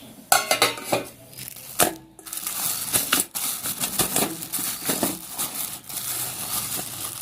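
A pot being handled while leftover khichuri is reheated: sharp metallic clanks, scrapes and clicks in irregular bursts, close by, with no talking.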